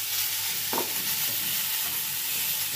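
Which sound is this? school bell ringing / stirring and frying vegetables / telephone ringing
stirring and frying vegetables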